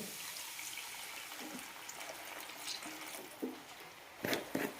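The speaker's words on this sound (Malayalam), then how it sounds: "ഇനി ഇതിലേക്ക് കുറച്ച് ചൂടുള്ള വെള്ളം ഒഴിക്കാം" Hot water, not boiling, poured into a pan for maize rava upma, a soft continuous splashing trickle with a few louder splashes near the end, no talking.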